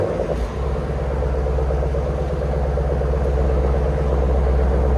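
Idling 2020 Jeep Grand Cherokee SRT with a 6.4L HEMI V8 and Borla Atak cat-back exhaust, a steady deep rumble close by that holds evenly throughout, running alone with no voices.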